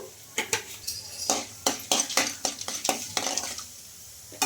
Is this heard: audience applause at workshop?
no